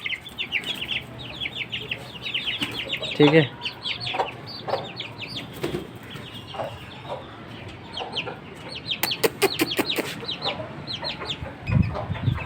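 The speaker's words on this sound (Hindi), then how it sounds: "तो अब जो है वो हम इन चूज़ों को और मुर्गियों को खोलेंगे" Chickens and chicks in a cage, frequent close clucking and high peeping in busy overlapping bursts, with rustling and a short spoken remark partway through.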